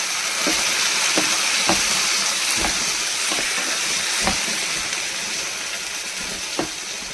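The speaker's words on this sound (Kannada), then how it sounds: "ಟೊಮೊಟೊನ ಮಿಕ್ಸಿಗೆ ಹಾಕಿಟ್ಕೊಂಡು, ಟೊಮೆಟೊ ಪ್ಯೂರಿ ಹಾಕ್ತಾಯಿದ್ದೀನಿ" Tomato puree for a paneer gravy is poured into a hot pan, giving a loud, continuous sizzle and hiss, broken by several soft, sharp ticks and pops from the spattering puree.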